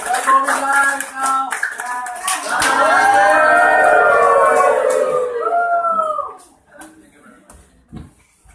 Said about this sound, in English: A million of claps to our powerful speaker, Coach Andrew!